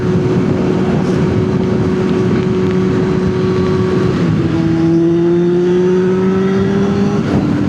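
A loud, steady motorcycle exhaust drone with a sustained tone that shifts pitch partway through, like an engine holding revs then easing and rising again.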